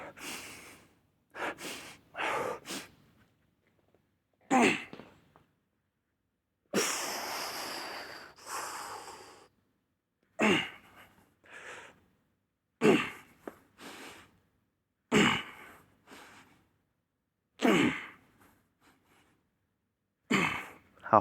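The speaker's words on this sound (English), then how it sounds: "2 more massive breaths." Heavy, forceful breaths from a person doing a flat dumbbell chest press, several loud inhales and exhales in separate bursts with pauses between, close and alone without speech.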